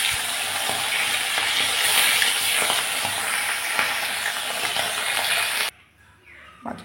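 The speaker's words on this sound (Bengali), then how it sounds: "এখন মাছগুলো ভেজে নেব।" Bata fish frying in mustard oil in a kadai, a loud, dense crackling sizzle close by that cuts off abruptly near the end, leaving a quiet room with faint clicks.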